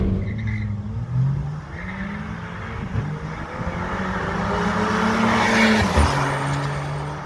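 A Volkswagen Jetta TSI or Range Rover Evoque engine revs hard and shifts through gears in a street race, its pitch climbing and dropping repeatedly, loud and close with no talking.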